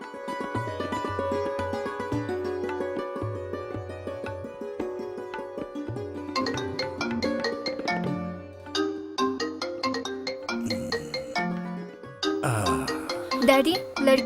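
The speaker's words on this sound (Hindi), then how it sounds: "लड़की वालों का फोन है।" A mobile phone plays a melodic ringtone at home as a call comes in from the bride's family. The tune repeats in bright chiming notes for several seconds, fairly close and clear.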